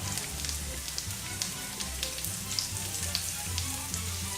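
Fresh homegrown mushrooms sauteing in a pan on an off-grid homestead, a steady close sizzle and crackle with scattered pops and a low hum beneath, no voices.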